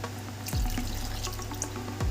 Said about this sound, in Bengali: এবার কুকারটা ধুয়ে একটু জল দেব।